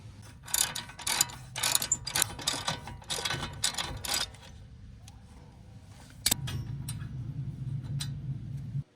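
A ratchet clicks in bursts as it backs out a brake caliper bolt on a Hyundai or Kia during wheel bearing work. The quick mechanical ticking sits close, then stops, followed by a steady low hum.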